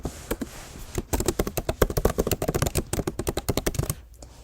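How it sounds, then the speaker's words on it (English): Rapid keystrokes on a computer keyboard as a Gmail signature is typed, a close, steady stream of crisp clicks with brief pauses and no speech. "In the text box, start typing your desired signature."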